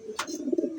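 Pigeons coo softly nearby after feeding, with a low warbling coo following a brief rustle.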